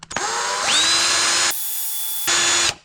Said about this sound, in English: I don't know if I want to use this drill or not.